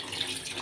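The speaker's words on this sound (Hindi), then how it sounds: "और यहाँ पे अब हम शामिल करेंगे जी पानी" Water poured into a cooking pot of potato pakora curry, a brief, soft, steady splashing rush close by.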